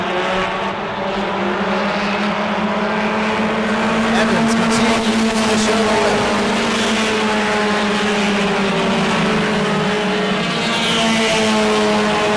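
Stock cars roar around New Smyrna's track in a continuous, loud engine drone, while a commentator talks over the racing.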